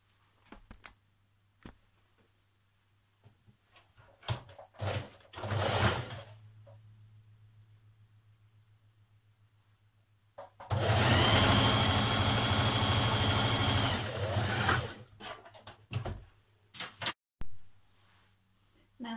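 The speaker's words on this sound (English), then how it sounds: "Now we're just going to machine stitch around this outer edge so both sides are together." Sewing machine stitching the outer edge of a vintage-style apron, a loud steady whirring run of several seconds between short bursts and quiet pauses.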